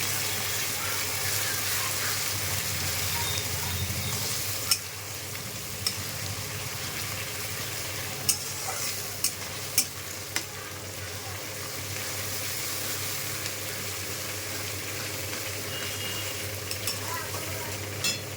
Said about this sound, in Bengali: পেঁয়াজটা দিয়ে দিয়েছি কড়াই